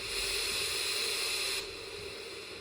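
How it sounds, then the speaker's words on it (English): A continuous, even pink noise hiss from a noise generator with a softer, duller tone, dropping to a lower level partway through. "The pink noise."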